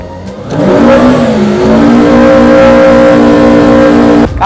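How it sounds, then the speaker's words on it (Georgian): A car accelerates hard at full throttle, its engine note climbing loudly through rising revs with a brief gear-change dip, close by and alone, cutting off sharply at the end. "ეს არის სრული აქსელერაცია."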